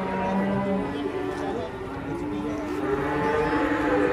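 Cattle moo loudly and at length at an outdoor market, a long low call rising and falling across the whole stretch over steady crowd chatter and background noise.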